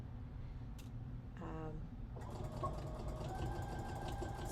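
A sewing machine stitches a lace panel onto a jean jacket, its motor giving a steady, fairly quiet whirring hum with a brief rattling burst partway through.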